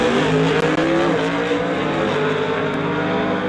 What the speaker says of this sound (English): You can hear Winterbottom going through the gears in that high-winding small block as they get to the top end